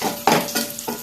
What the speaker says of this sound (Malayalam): ഇത് നമുക്ക് പൊരിക്കുകയാണ്.